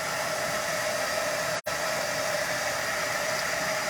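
A hair dryer blows steadily and loudly while drying a painted craft stocking, a constant whooshing hiss with one brief cutout partway through before it resumes.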